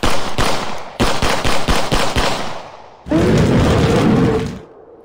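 Gunfire in the time-travel shooter Tempus Triad: rapid bursts of sharp shots with thuddy impacts over the first few seconds, then a sustained loud roar of continuous firing that cuts off near the end.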